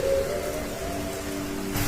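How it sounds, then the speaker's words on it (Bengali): Light rain patters steadily under sustained tonal background music, with a low rumble that may be thunder. "বৃষ্টি পড়ছে টিপটিপ করে আকাশে গর্জন"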